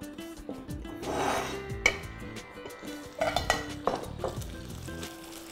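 Plates and bowls being readied for serving oxtail soup, with ceramic and metal clinking close by, soft rubbing scrapes and a few sharper knocks scattered irregularly, no voices.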